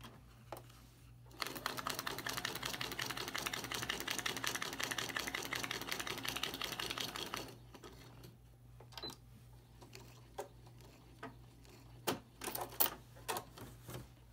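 A sewing machine stitches through paper in a steady, fast rapid-fire burst lasting several seconds, then stops, followed by scattered faint clicks and handling sounds nearby.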